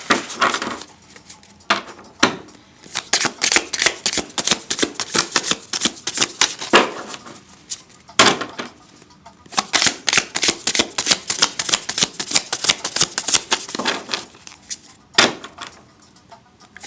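A deck of tarot cards is shuffled by hand, giving a steady run of crisp riffling and flicking clatter with brief pauses between bursts, close by and with no talking.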